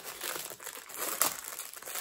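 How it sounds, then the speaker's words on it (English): Crinkly plastic packaging is handled and pulled apart to free a hairband from an Anthropologie haul, a continuous close, rustling crumple with one sharper crackle partway through. "So I'll just take it out of the packaging."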